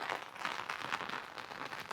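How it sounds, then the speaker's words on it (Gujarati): Steady, continuous rain falls in a Botad village, a soft even hiss that holds without break at low level for the whole stretch, with no voices. "એવો વરસાદ એક ધારો સતત ચાલુ છે."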